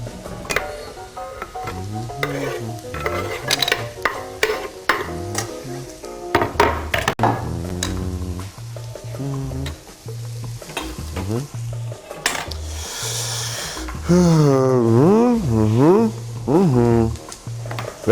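Onions frying in a pan are stirred with a utensil while cooking lasagna, giving a steady sizzle broken by scraping and clinking; a voice and singing-like talk run on top throughout.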